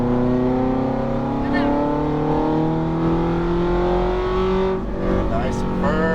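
A Ferrari F430 F1 engine pulls hard on a race track, a loud steady rising drone with rich harmonics that climbs in pitch throughout, close up and continuous.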